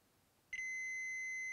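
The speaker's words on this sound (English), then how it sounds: "we get a beep saying that that is shorted to ground" A single sharp electronic beep starts abruptly and holds steady as a continuous tone from a multimeter's continuity test, detecting a capacitor shorted to ground on a Sega Game Gear board.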